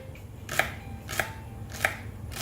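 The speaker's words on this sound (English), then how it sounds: "Finally chop up the celery" A knife chops through celery on a cutting board in three or four evenly spaced, crisp thuds, close and fairly quiet, with no voices.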